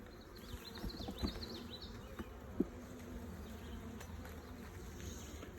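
Honeybees of an Italian hive buzz during a hive inspection, a faint, steady, distant drone with one brief click partway through.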